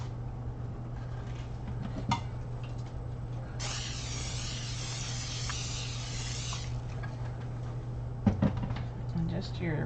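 Non-stick cooking spray hissing into a pan in a home kitchen in one continuous burst of about three seconds, with light clatter and handling knocks around it.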